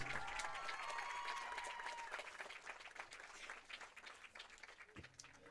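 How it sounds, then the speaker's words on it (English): Crowd at a women's college soccer game applauds a senior player, a spread of clapping and cheering that starts strong with a high whistle-like tone, then thins and fades, with scattered claps near the end. "one final GSW round of applause for number 9, Ella Hawkins"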